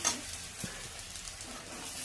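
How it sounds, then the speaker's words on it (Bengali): Spices being stirred in a hot frying pan, a quiet continuous sizzle with occasional soft scrapes of the spoon, heard alone without speech. "সবগুলো মশলাগুলোকে ভালো করে নেড়ে নিচ্ছি।"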